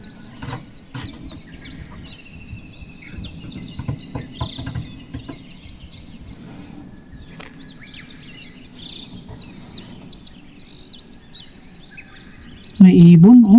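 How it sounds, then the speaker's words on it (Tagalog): A small bird hidden beneath a house calls in repeated, high-pitched chirping bursts throughout, fairly close, over steady low background rumble and faint insect-like buzzing. A loud voice cuts in briefly at the very end. "May ibon dyan sa ilalim."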